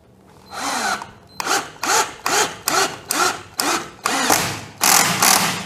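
Cordless drill powered by a Camelion 18650 high-drain battery driving a screw into hard teak wood at a torque setting of 10, with a series of about eight short, close, loud whirring bursts separated by brief pauses, no talk.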